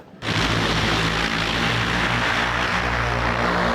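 An XPeng X2 flying car prototype, a wheel-less drone-like craft, flies with a loud, constant roaring drone that kicks in abruptly and holds steady at close range.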